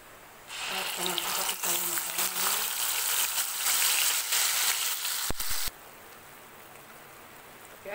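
Cumin seeds dropped into hot oil for a mung dal badi and drumstick sabji, an immediate loud, dense sizzle that crackles for about five seconds, then cuts to a quieter steady frying hiss.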